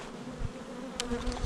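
A short burst of honeybee buzzing around an open hive during installation, a steady close hum with a brief sharper flare near the middle.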